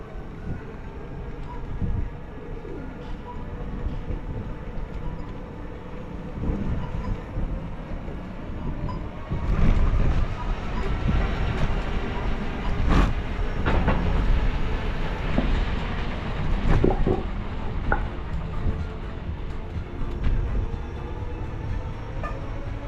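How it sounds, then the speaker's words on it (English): A train rumbles steadily past at Bankstown with rhythmic clattering and occasional louder clanks, fairly close, with wind buffeting the microphone. "We just missed the train"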